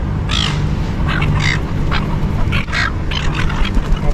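Seagulls squawk repeatedly at a Sydney fish market, a cluster of harsh nearby cries over steady low crowd and market noise.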